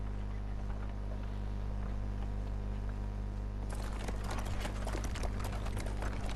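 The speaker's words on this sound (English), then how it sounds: "the Cainhurst carriage, I'm assuming it's called, will come collect you" In the video game Bloodborne, a horse-drawn Cainhurst carriage arrives, its hooves clip-clopping in a rapid rhythm that starts partway in over a low, steady ambient drone.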